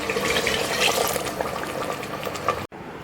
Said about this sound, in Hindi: अब मैं इसमें पानी को ऐड करूंगी जो कि 1 कप है।